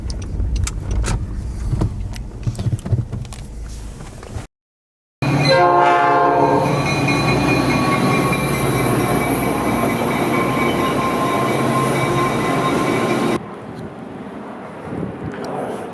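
A train passes through a station with a sustained, loud rumble and a long, steady horn tone, broken by a brief cut before it fades to background noise.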